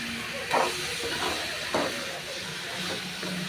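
Food frying in a pan on a stove, giving a steady broadband hiss and sizzle with a few soft clinks and scrapes, fairly faint and close.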